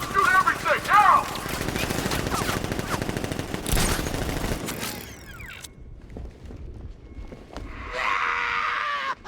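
Gunfire from thugs in Batman Arkham Knight, dense bursts of shots and rattling automatic fire crowding the first half, thinning into scattered, quieter bangs later, with voices and other game noise mixed in.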